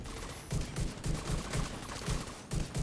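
Shotguns fire in a video game, a run of heavy, booming blasts roughly every half second, with sharp mechanical clatter in between and no talking.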